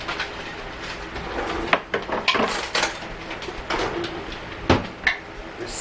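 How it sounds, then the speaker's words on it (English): Glass canning jars holding French onion leek soup being lifted out of a canner, with a run of clinks, knocks and sharp clatters against metal over a background of bubbling and hiss. "we're gonna pull them out of the canner"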